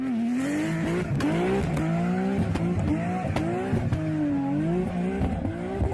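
A Toyota Supra engine accelerating hard and loud up close, with a run of quick repeated revs whose pitch climbs and drops again and again. No one talks over it.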